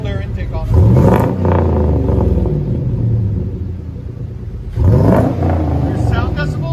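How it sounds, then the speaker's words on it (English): A car fitted with a cold air intake and a Magnaflow muffler revs up twice, each rise bringing a loud, deep rumble with an intake whoosh before settling back to a steady idle drone. "You can hear the cold air intake on it."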